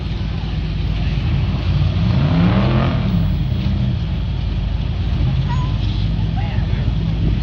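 A rock crawler with rear steer grinds its engine through a competition course at a rock-crawling event, a steady loud drone with rising and falling revs under wind noise.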